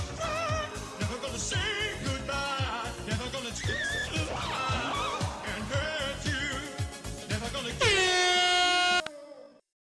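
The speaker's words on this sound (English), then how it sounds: "Needs more air horn." Blaring air horn blasts mixed into loud, busy music at an osu! catch World Cup match, ending with a long sustained horn chord that cuts off abruptly.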